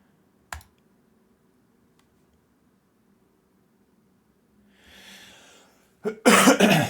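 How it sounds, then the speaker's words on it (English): A sharp cough near the start, then quiet with faint clicking, ending in a loud burst of coughing close to the mic. "Apologies for the coughs."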